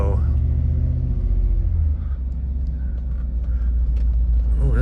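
A Cadillac Escalade converted to two-wheel drive rumbles steadily on the road, its deep, loud engine drone running continuously close by, with a slight dip in level partway through.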